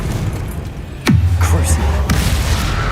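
Confringo blasting spell from Hogwarts Legacy, heard as a sudden loud boom with a deep falling rumble that sustains and fades, followed by a second sharper impact about a second later, with speech-like game noise around it.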